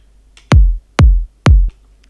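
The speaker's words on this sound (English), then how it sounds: "So this is the kick itself" Solo kick drum sample from an electronic remix, three deep punchy booming hits evenly spaced about half a second apart, loud and alone over a faint low hum.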